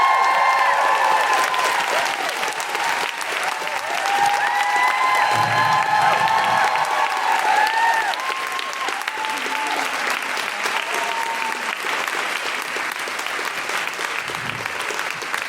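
A live studio audience claps and cheers for Gemma Arterton at a podcast recording, dense steady applause with whoops rising early and slowly easing off but sustained throughout.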